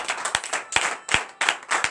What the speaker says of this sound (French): donner de vives acclamations à notre Seigneur Jésus